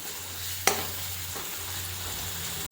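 Garlic chutney frying in oil with melted tomatoes for an eggplant and potato dish, a steady close sizzle with one sharp spatula scrape and a fainter second stroke.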